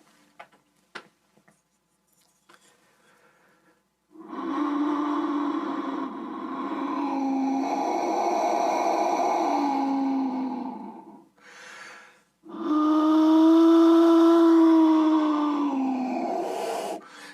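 A Mexican animal-shaped whistle with a puma face is blown in two long, breathy, wavering tones, the second after a short blip, preceded by faint clicks.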